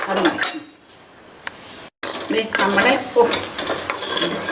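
A spoon clinks and scrapes against a pan while jaggery melts into a thick syrup, irregular stirring knocks with a brief gap, close by, with soft background talk.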